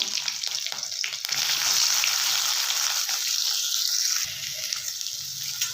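Onion, cumin seeds and curry leaves sizzle in hot oil, a steady close frying hiss that swells louder midway and then eases, with no talk.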